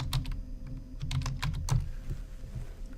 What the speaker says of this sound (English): So if I type in 1920s